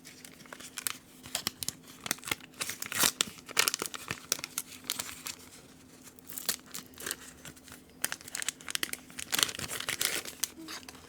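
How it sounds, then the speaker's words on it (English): Close, crisp tearing and crinkling of a Formula 1 Topps Turbo Attax trading card pack wrapper comes in irregular bursts throughout, with no talking. "I tried to do some of that crinkling stuff for you for ASMR"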